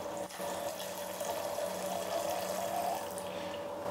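Water pours from a bucket onto a composite supercar panel during a load test, giving a continuous, fairly faint gushing and splashing with no talk.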